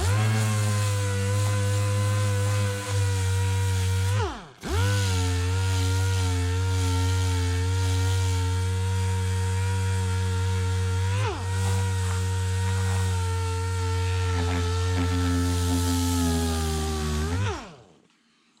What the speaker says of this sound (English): I know sandpaper is going to hit that